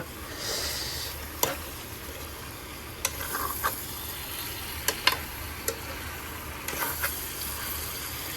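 Food being stirred as it fries in a pan, a steady close sizzle broken by sharp scraping clicks of the utensil against the pan, with a low hum beneath.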